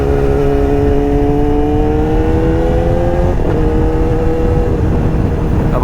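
Yamaha R6 sport bike with an auto blipper on a racing circuit, its engine held at a loud, steady high rev that climbs slightly, then drops briefly and rises again as if through a shift.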